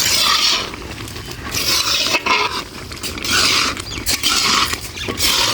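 A ladle scrapes and stirs carrot halwa (gajrela) in a pot in repeated rough passes, giving close, fairly loud scraping sounds with short pauses between strokes.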